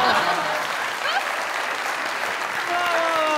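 A studio audience at a comedy show claps in steady, dense applause, close and continuous from start to finish, with no voices standing out.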